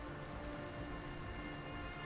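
Steady rain from the video game Disco Elysium falls in an even, continuous hiss, with no talk over it.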